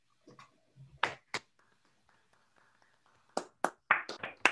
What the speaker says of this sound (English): let's unmute and give Klaus a second round of applause